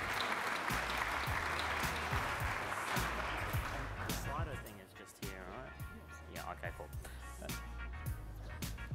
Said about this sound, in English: Please put your hands together for Michael Koziol